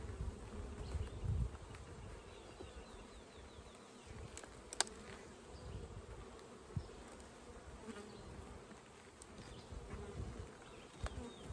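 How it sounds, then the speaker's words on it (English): A dense swarm of bees buzzes continuously close by at a hive, a steady droning hum with occasional louder passes of individual insects. "We've got a lot of bees up here in this second."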